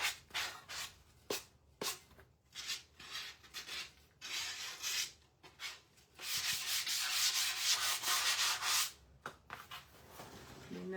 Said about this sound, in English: I'm going to use my 120 grit cut off sandpaper here, and I'm just going to go lightly over it.